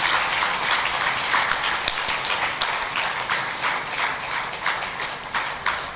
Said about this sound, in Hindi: जोरदार तालियों से मिलन जी का स्वागत करिए